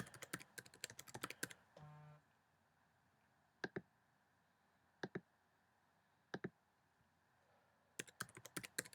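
Keys clatter on a computer keyboard in quick bursts of typing, then a quiet stretch broken by a few isolated pairs of clicks and a final flurry, close and crisp.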